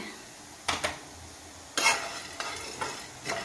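Chana dal, urad dal and cumin seeds roasting dry in a pan, stirred with a spatula in a few distinct scraping bursts over a faint steady crackle, close and moderately loud.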